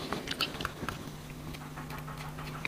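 Crispy fried fish from Shardara being bitten and chewed up close. Quiet crunches and moist chewing come in a loose, irregular rhythm.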